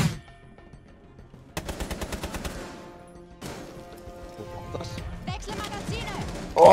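Rapid gunfire in the video game Rainbow Six Siege, sharp automatic bursts of evenly spaced shots starting after a quiet opening, then further clustered shots and a loud final crack, with a voice talking alongside.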